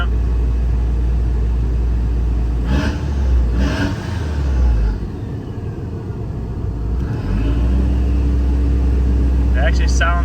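A manual-swapped Mk4 car's engine idles loudly while warming up and rises in a couple of short revs, with a steady low rumble throughout.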